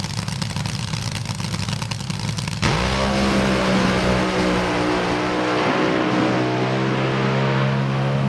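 An AA/Fuel nostalgia dragster at the starting line of an NHRA Hot Rod Heritage Series drag race revs up hard, a loud, thunderous sustained engine roar that jumps in level partway through and holds steady with a rough, crackling drone.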